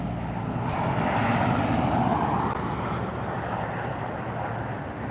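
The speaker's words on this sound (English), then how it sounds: "We have a Delta making the turn." A Delta airliner taxis and turns at LAX airport, its jet engines giving a steady, broad roaring hum at moderate distance with no voices over it.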